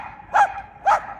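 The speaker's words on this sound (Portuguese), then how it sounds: "esse cachorro passa ali e fica fazendo barulho" Two sharp barks from a dog passing nearby, evenly spaced about half a second apart against a quiet background, loud and close.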